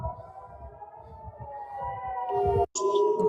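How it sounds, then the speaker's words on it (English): Sirens wail steadily in the background, their rising and falling tones growing gradually louder, then a brief sharp cutoff just before the end as the howl resumes even stronger. "The sirens are just getting louder and louder."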